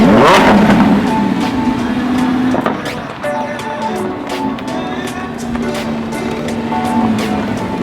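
A Lamborghini Huracan revs loudly while driving on a hot road toward Dubai, its engine note rising and falling in repeated close sweeps.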